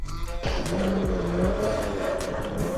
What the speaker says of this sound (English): Let's go for a ride with both the stock bike and this bike and find out.